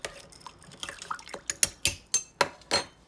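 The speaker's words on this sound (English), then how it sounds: "I'm just gonna add a little bit of salt in there. And then I'm just gonna stir them up." Black-eyed peas are stirred in a pot of salted soaking water, giving a run of wet sloshes and then several sharp clinks of a spoon against the pot, with no voices.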